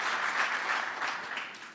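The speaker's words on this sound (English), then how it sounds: "Lots of cheering there from maybe his family's there to applaud him on." Applause at a cabinet swearing-in ceremony for the Carney government, a short burst of steady clapping from a crowd that slowly tapers off.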